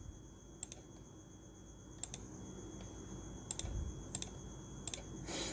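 Computer keyboard keys tap quietly in short, scattered bursts of a few strokes each as a phone number is entered for Facebook sign-up, with no voices.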